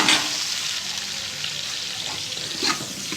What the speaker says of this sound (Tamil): இப்போ வெங்காயத்தை சேர்த்துக்கிறேன். நல்லா வதக்குங்க.